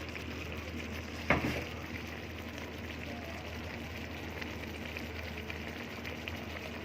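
Shrimp go into a pan of hot oil, making a steady, even frying hiss throughout, with one brief louder crackle near the start.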